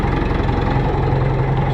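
An old farm tractor engine runs steadily at idle nearby, a loud continuous low rumble with a throbbing mechanical pulse and no voices.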